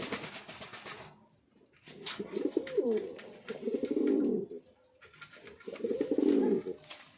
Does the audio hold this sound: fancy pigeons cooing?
yes